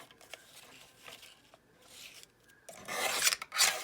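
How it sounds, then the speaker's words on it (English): Paper being trimmed off the top of a journal page, heard as soft rasping cuts, with a louder, brighter scraping burst near the end; close and fairly quiet, no talking. "So I need to trim that little teensy bit off the top."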